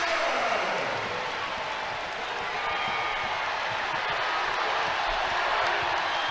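A basketball arena crowd at a women's college game, South Carolina against UCLA, swells in a steady, loud roar of cheering and applause that holds throughout.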